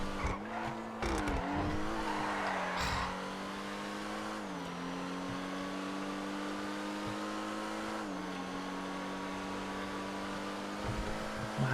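A Spectre Custom sports car races in GTA V with a steady, close engine drone, occasional gear shifts and braking dips, plus brief tire squeals and skidding bursts near the start.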